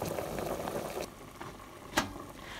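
Pork head pieces boiling in a pot for Thai taro curry, a steady close bubbling simmer that quiets partway through, with a brief knock near the end and no voices.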